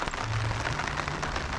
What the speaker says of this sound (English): as you can see, the weather is really bad. So it's very rainy.